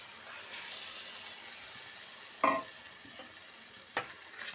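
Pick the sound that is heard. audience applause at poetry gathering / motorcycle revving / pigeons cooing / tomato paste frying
tomato paste frying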